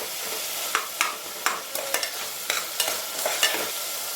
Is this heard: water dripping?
no